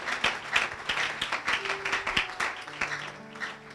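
A church congregation claps in rhythm to acclaim Jesus, a steady patter of many hands at moderate loudness with little talk.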